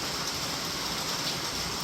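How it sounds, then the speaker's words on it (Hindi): Heavy rain pours in a Himalayan mountain area, a dense, steady hiss of falling water with no voices. "बारिश हो रही है।"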